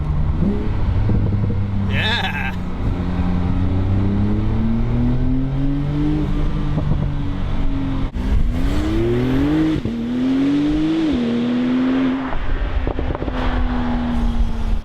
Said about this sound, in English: I mean, you hear the turbo, sure, but you hear some exhaust now too.